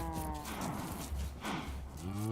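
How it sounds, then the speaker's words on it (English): Cows low in modded Minecraft, a loud, drawn-out moo with a harmonic tone, then a second moo rising near the end, close and with no talk over it. "Goodbye, cows."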